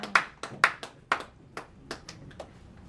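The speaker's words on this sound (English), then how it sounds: "do you want to give a hand clap to the Lord?" Church congregation clapping for the Lord, sparse and uneven, around a dozen separate hand claps spread over a few seconds in a reverberant room, some louder and closer than others.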